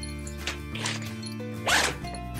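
A zipper on the flap compartment of a Deuter Aviant backpack is pulled open in a few short rasping strokes, close and clear, with no talking.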